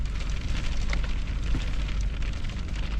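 Snow pellets fall during a January snow squall on a country road in Rougemont, a dense, steady hiss like hail pattering on surfaces, with constant low wind rumble and no talk.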